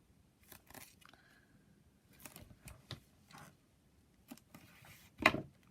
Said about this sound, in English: My scissors got stuck on that.